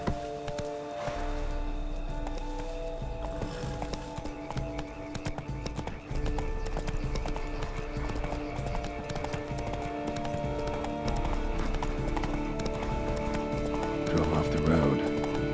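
Hooves of the horse Roach clip-clop steadily in The Witcher video game, a continuous close rhythm under game music and ambient tones, with a brief whinny near the end.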